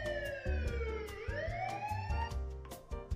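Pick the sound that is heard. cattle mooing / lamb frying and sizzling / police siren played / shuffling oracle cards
police siren played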